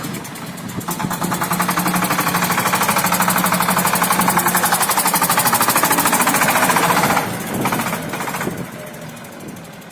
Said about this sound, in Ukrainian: Їде на Бердичівську. На Бердичівську тракторець.